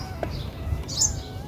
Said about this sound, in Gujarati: હા પંખી બોલે છે અત્યારે જો.